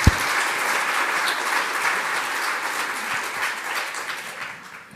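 A lecture audience in Geneva applauds warmly, a dense, sustained wash of many hands clapping that holds steady and then begins to fade toward the end, with no voices.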